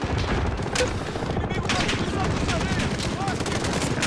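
Dense, continuous gunfire in a video game, a loud sustained barrage of overlapping shots and bursts running throughout.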